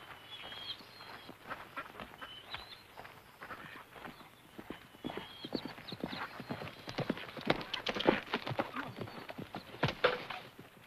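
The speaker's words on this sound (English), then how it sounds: "All right, men, let's ride." Several riders in a Western posse head off on horseback, their hooves clip-clopping in a steady, busy patter that grows louder and denser toward the end, with a few high whinnies mixed in.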